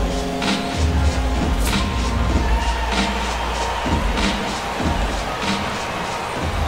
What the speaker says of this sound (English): the home crowd seems a little restless